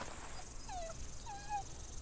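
A dog in The Walking Dead video game lets out two short, soft whimpers close by over a low, steady background hum.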